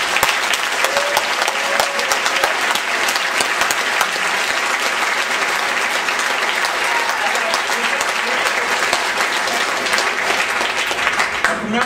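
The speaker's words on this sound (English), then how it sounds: "Please give them a round of applause." Convention crowd at an opening ceremony gives keynote speakers a long, loud, even round of applause that fills the room without letup.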